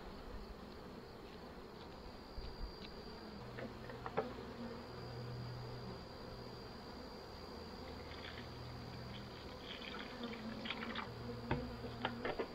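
Honey bees from late-summer splits hum around an open hive while feeding on a pollen patty, a soft, continuous buzz close by with a few louder passes of single bees.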